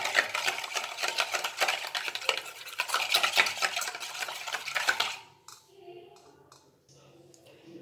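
A spoon stirs a flour mixture for butter bun dough in a bowl, scraping and brushing steadily and close for about five seconds. The stirring then stops, leaving a few faint clinks.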